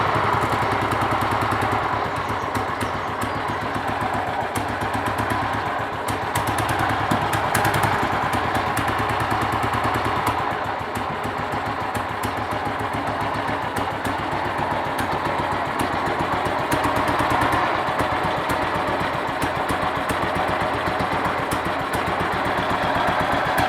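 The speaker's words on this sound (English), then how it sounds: "now I'm going to start this bike for you, and you can hear its lovely strokes" A BSA M20 motorcycle's single-cylinder engine fires up and runs steadily, a loud, close, continuous thumping beat with mechanical clatter holding for the whole stretch, no talking.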